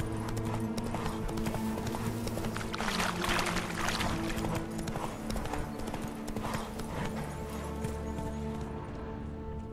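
Roach, the horse in The Witcher 3: Wild Hunt – Blood & Wine, gallops with steady, loud clip-clopping hooves throughout, over a dense game backdrop with water and ambient music.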